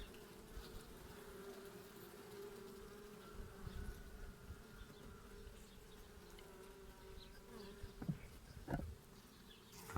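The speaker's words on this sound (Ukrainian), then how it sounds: "Так, дивіться, тут зараз бджоли багато." Many bees buzz in a dense, continuous drone close by around opened hive frames, with a few brief knocks and thumps toward the end.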